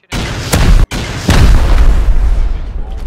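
A rocket explosion in the Rust video game lands as loud, close booms. A sharp blast is followed by a short gap and then a second heavy detonation whose rumble lingers to the end.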